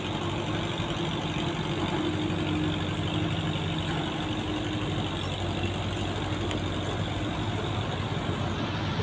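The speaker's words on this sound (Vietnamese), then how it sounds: "chiếc ghe đang chui qua cầu Ô Môn." A cargo boat's engine drones steadily and close as the sand-laden barge passes under Ô Môn bridge, a continuous low motor rumble with no breaks.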